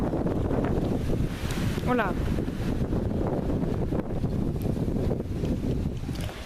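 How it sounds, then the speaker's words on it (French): Strong, violent storm wind from Storm Freya blasting across a microphone in steady, roaring gusts, with someone talking briefly partway through. "il y a un peu de vent"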